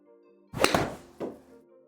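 A Ping wedge striking a golf ball outdoors, one sharp close thunk followed by a fainter second knock.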